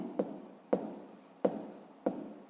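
Four crisp pen strokes tap and scratch on paper at a steady pace, numbers being written by hand in a fifth-grade maths lesson, close and quiet with no speech.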